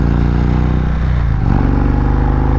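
An Indian Roadmaster motorcycle climbs a hill with a slipping clutch, its engine a loud, steady, close drone that shifts slightly midway without a break.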